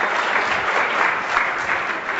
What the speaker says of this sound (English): So can you please give him a big round of applause?